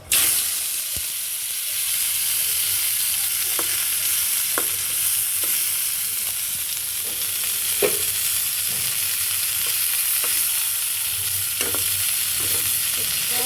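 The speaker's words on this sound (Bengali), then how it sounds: "এই যে শুটকিটা দিয়ে দিতেছি তেলের মধ্যে।" Dried fish frying in hot oil gives a steady, loud sizzling hiss throughout, broken by a few sharp crackles and pops, with no voices.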